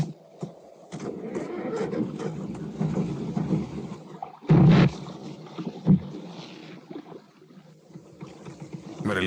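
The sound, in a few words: boat engine starting and running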